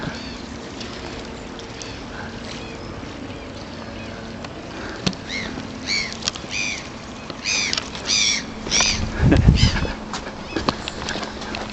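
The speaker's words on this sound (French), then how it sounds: "C'est des mouettes." Seagulls call over a calm sea at Cap Ferrat, a series of short, fairly close cries that grow busier toward the end over a low, steady outdoor background.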